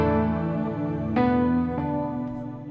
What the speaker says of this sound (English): So I already loaded up this piano in Nexus, the Netherworld's piano. Sounds like this.